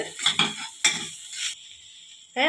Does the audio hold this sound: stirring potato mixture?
yes